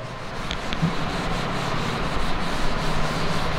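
A cloth or duster rubs a classroom board clean with a steady, close scrubbing and wiping texture that runs continuously and grows slightly louder toward the end, with no talking over it.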